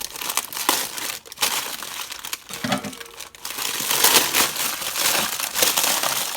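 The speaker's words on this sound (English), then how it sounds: "I cut it out of this plastic." Plastic packaging crinkling and crumpling steadily as a pre-cooked spiral ham is cut free, close and continuous with irregular rustling bursts and faint handling thuds.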